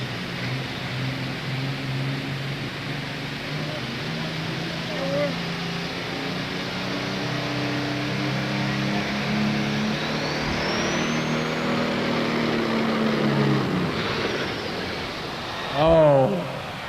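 A Super Stock diesel tractor engine drones loudly and continuously under strain at a tractor pull, rising in pitch as it pulls, with a sharp burst near the end.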